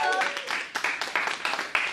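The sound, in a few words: class clapping for a student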